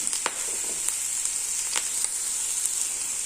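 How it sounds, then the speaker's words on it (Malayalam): Carrot and moringa leaves sautéing in ghee hiss with a bright, constant sizzle, close up, with a few soft spatula clicks scattered through it. "നെയ്യ് ചേർത്ത ശേഷം ഈ ക്യാരറ്റ് ക്യാരറ്റും മുരിങ്ങയിലയും ചേർത്തൊന്ന് ജസ്റ്റ് ഒന്ന് വഴറ്റി കൊടുക്കാം"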